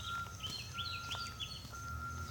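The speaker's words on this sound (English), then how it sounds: "Now you can hear the birds," Birds singing on the grounds of the John Ringling estate, a few faint chirps and short whistled calls over a steady low background hum with no talking.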